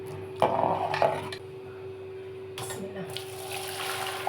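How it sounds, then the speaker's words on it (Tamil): Water from partly cooked biryani rice pours through a strainer in a kitchen with a couple of splashy bursts followed by a steady trickle and drain, fairly quiet and close, with no talking. "இந்த மாதிரி ஸ்டேஜில் நம்ம ஃபில்டர் பண்ணிக்கலாம்."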